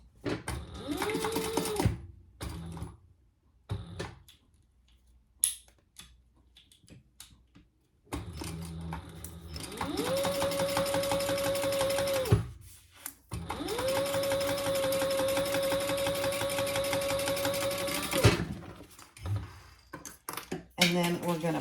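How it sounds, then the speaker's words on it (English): A sewing machine top stitching a bag flap, steady mechanical whirring runs of several seconds each separated by pauses, handling noises between, close up. "And now I'm going to top stitch that"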